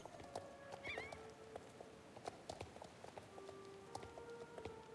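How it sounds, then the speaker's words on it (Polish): A horse in the online riding game Star Stable Online whinnies once, and hooves clip-clop in a steady rhythm. The sound is quiet and sits over a soft, constant outdoor ambience. "To będzie nasz pierwszy koń."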